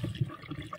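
Boiling water is poured down a drain after a cleaning powder has been added: a brief, faint gurgle and splash of liquid, heard alone.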